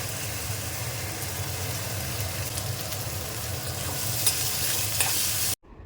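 Chopped onion fries in a pan with curry leaves, a pinch of asafoetida and ginger-garlic paste for a dry bangda mackerel dish. A steady, close sizzle with faint stirring runs throughout and cuts off abruptly at the end.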